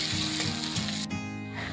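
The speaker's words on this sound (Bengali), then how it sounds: "এবার নেড়ে নিয়ে পেঁয়াজ আর শুকনো মরিচ হালকা লালচে করে ভেজে নেব।" Chopped onion and dried red chillies frying in a pan for a sour raw-mango dal, a close, steady sizzle broken by a few scraping stirs.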